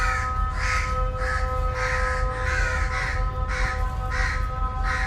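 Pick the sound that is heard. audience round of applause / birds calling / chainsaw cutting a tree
birds calling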